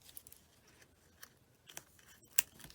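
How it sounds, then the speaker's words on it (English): Scissors cut paper while making a card, giving quiet, sparse snips and crisp crackles, close by and faint, with one sharper snip near the end. "These are not the best scissors"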